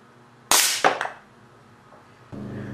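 A .177 air cannon fires a steel BB into a roughly 3/4-inch-thick block of wax from 10 meters: one sharp, loud report, then a quick second crack as the BB hits. A low hum continues underneath, and a rumble swells near the end.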